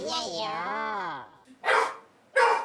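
A dog brought into a residential housing society gives two sharp, loud barks close by, after a long wavering whine-like voice at the start.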